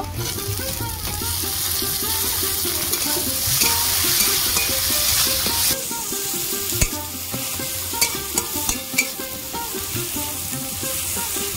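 Chopped tomato frying with onion and green chilli makes a constant bubbling sizzle with rhythmic spatula scrapes close up, shifting to sharper clinks and stirs in the second half, no one talking.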